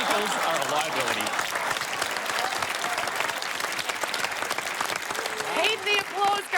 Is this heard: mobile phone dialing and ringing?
no